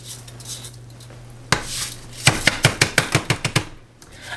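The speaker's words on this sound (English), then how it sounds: "Now we're going to dump our washed rice into our casserole dish." Washed rice tipped into a casserole dish: a soft scrape and a thud, then a quick run of about ten sharp, regular knocks and taps, close and fairly loud, with no voices.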